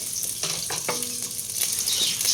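Garlic, onion and ginger sauteing in a hot pan, a steady broadband sizzle with a few stirring scrapes and clicks, close and fairly loud with no talking.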